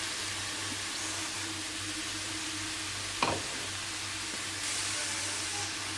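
Minced garlic sizzling in a pan still holding fat from fried chicken, a steady soft frying hiss throughout with a brief clink partway in.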